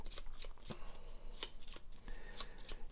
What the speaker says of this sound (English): Now we need to shuffle these ones up.